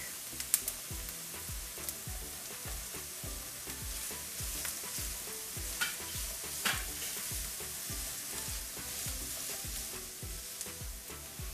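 Ginger and garlic fry in ghee for Punjabi-style sarson ka saag, giving a constant airy sizzle with a steady patter of small crackles and occasional spoon taps, low in level.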